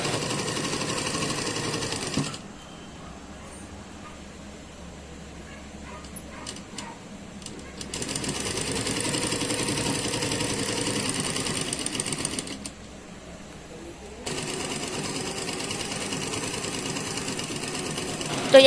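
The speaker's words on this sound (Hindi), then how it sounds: "अब मैं साइड पोर्शन को सिलाई करके दिखा रही हूँ।" A sewing machine stitches the side seam of a suit in long loud runs, stopping briefly twice before whirring on, with a small dog whimpering and yipping in the background.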